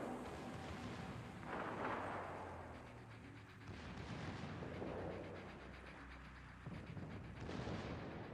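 Venezia cruiser firing a gun salvo in World of Warships during a competitive match, a series of deep, distant booming shots rolling over constant low battle rumble.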